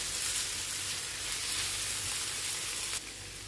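Chicken sizzles steadily in a pan with softened tomatoes and onions for tawa chicken, an even, close frying hiss that drops slightly in level near the end, with no talking.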